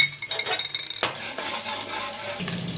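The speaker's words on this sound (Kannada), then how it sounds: "ಎಣ್ಣೆ ಕಾದಿದೆ ಈರುಳ್ಳಿ ಹಾಕ್ತೀನಿ" Onions go into hot oil in a pressure cooker for a mutton keema curry, a sudden clatter and splash followed by steady frying hiss and scraping stirs close up.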